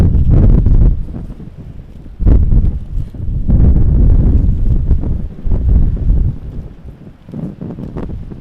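Strong gusty wind buffets the microphone at a plane spotting site beside the runways of Montréal-Trudeau International Airport, a loud, continuous low rumble that surges and eases in uneven bursts.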